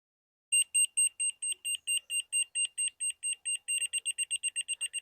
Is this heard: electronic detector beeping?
yes